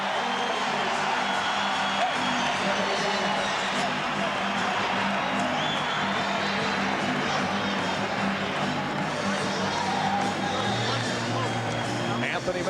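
Basketball arena crowd at Madison Square Garden reacting to Anthony Mason of the Knicks checking in, a sustained, loud roar and murmur filling the building, with a commentator talking over it.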